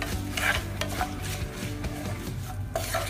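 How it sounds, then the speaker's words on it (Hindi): Turmeric being mixed into hot oil over a low gas flame while making vada pav: a soft continuous sizzle with a spoon scraping and clinking against the pan, close and moderately quiet, no talking. "हल्दी को भी तेल में अच्छे से मिक्स कर लेंगे।"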